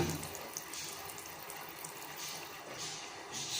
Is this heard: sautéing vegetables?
no